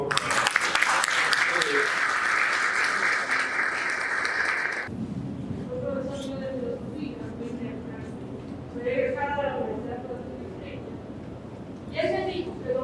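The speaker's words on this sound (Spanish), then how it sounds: "Un aplauso, por favor." A panel audience discussing the thought of Pedro Henríquez Ureña breaks into loud, brisk clapping for about five seconds, which stops abruptly before a speaker resumes talking into a microphone.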